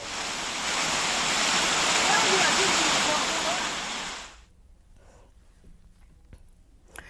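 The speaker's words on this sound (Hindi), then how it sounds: "गंदगी के साथ, मिट्टी के साथ, मलबे के साथ पानी तेज रफ्तार से आ रहा है" Muddy floodwater full of debris surges along an overflowing seasonal drain after heavy rain in Uttarakhand, a loud, dense roar for about four seconds. It then cuts away to a quieter background with faint scattered sounds.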